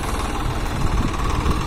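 Close, loud diesel chugging comes from a Swaraj 744 XT tractor straining to haul a trolley of wet cow-dung manure, its rough throb pulsing steadily throughout with no voices over it.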